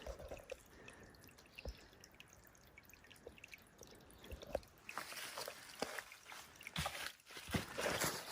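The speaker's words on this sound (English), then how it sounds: "So there's water coming from there." Water dribbling and dripping from a small freshwater spring on wooded land near Springfield, Missouri, with scattered drips early, then a busier, brighter trickle with sharp splashes in the second half, quiet and close.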